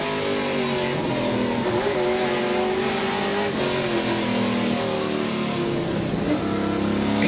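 A NASCAR Pinty's Series stock car at the Ebay Motors 200 race roars close by, its engine revving up and easing off in waves through a steady loud drone, with no voices.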